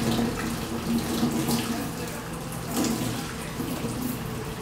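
Water from a kitchen tap runs steadily into a sink while dishes are rinsed, a continuous splashing rush with faint clinks and no talk over it.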